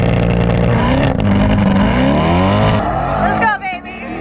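A C8 Corvette launches in a drag race at the Freedom Factory, its engine roaring loud and close with rising revs through the gears before fading away, while a voice talks over it.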